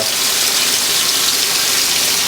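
Whirlpool and Maytag washing machines filling with water under strong pressure, a loud, continuous gushing rush that stays steady from start to finish.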